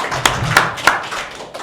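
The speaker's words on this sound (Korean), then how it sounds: "박수 한번 부탁드리겠습니다" A few scattered hand claps ring out in a symposium hall, three sharp, separate claps in quick succession before fading into quiet room tone.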